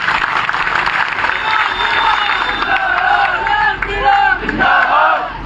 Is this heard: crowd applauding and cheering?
yes